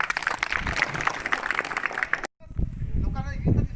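Applause from an audience welcoming a guest at a World Indigenous Peoples' Day gathering, dense clapping for about two seconds, then a sudden cut to voices talking over a fainter background.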